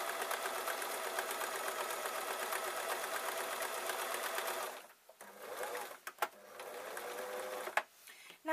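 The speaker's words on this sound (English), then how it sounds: "I'm using a fairly small stitch because the sewing machine likes this fabric" A sewing machine stitches fabric with a small stitch while making a little drawstring storage bag, its fast steady whirr running continuously for several seconds before stopping and restarting in short bursts.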